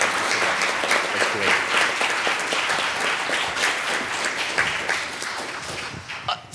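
Audience applause at a community fundraiser panel event on senior services, dense steady clapping filling the room for several seconds before tapering slightly at the end.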